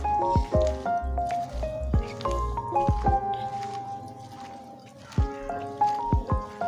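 Sliced potato and onion in pakora batter are mixed by hand, making wet, sticky squelches and squishes in uneven bursts close by.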